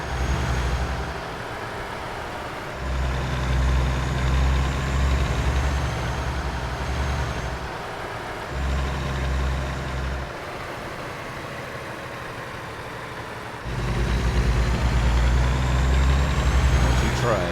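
Peterbilt 386 truck mod in American Truck Simulator, a heavy diesel engine rumbling low and loud, surging in several bursts as it revs and settles back, with brief quieter gaps and faint background noise.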